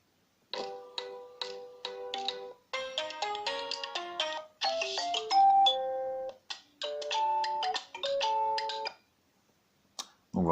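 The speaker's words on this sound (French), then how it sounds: "sonnerie du téléphone" A Nexus 5X phone running Android 8 Oreo plays its ringtone: bright, clean melodic chimes in quick repeating phrases, close and clear, with short pauses between bursts and no talking.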